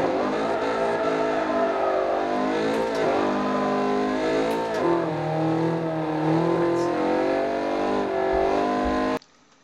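Front-wheel drive car engine revving hard in Forza 4, a loud, steady whine that rises and falls in pitch for about nine seconds before cutting off abruptly.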